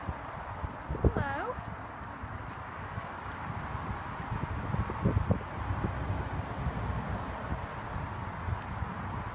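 Pony hooves clip-clop at a walk around a barn, a moderately close, uneven patter over wind and rustling, with people talking throughout.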